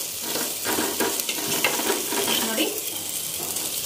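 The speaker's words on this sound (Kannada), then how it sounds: "ಸಾಸಿವೆ ಸಿಡಿತಿದ್ದಾಗೆ ನಾನು ಕರಿಬೇವು ಮತ್ತು ಈರುಳ್ಳಿನ ಹಾಕ್ತಾಯಿದ್ದೀನಿ. ಇದು ಸ್ವಲ್ಪ ಬ್ರೌನ್ ಕಲರ್ ಬರೋ ತನಕ ಎಣ್ಣೆಲಿ ಫ್ರೈ ಮಾಡಬೇಕು." Curry leaves and onions fry in hot oil for a tempering, giving a steady close sizzle and crackle with some stirring throughout.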